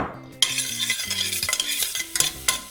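Garlic soup ingredients fry briefly in a pot, a short burst of sizzling starting abruptly, overlaid with quick stirring clatter of a spoon against the pot.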